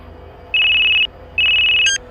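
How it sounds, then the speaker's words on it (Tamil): An incoming call on a telephone rings loudly with two identical electronic ringtone bursts about half a second each, followed by a short bright chime, set against quiet background. "ஒரு ஃபோன் கால் வருது"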